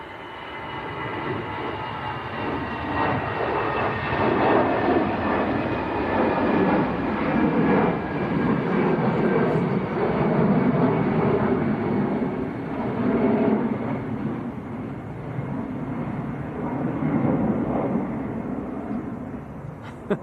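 An EasyJet airliner on its takeoff roll at Manchester Airport, bound for Zurich, a broad rumbling engine roar with rising whining tones, swelling and fading in waves over about twenty seconds at moderate distance.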